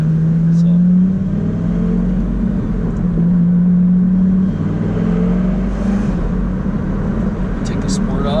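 Lamborghini engine with a stock muffler idles and revs as a steady low rumble throughout, with a voice talking over it.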